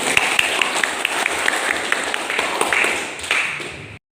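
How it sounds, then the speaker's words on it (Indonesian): A classroom of students applauds together, quick bright claps forming a lively, fairly close patter that keeps up steadily before stopping abruptly. "tepuk tangan semuanya"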